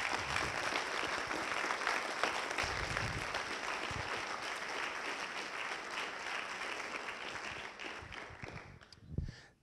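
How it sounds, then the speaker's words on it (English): A newsroom audience applauds in celebration of the Des Moines Register's Pulitzer Prize for editorial writing, with dense, sustained clapping from a room full of people that fades near the end, where a brief louder bump stands out. "I think that's worth a round of applause."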